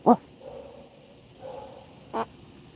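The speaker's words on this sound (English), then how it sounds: "Do you hear the doggy?" A dog barks twice, short and somewhat distant, with a quiet gap between the barks.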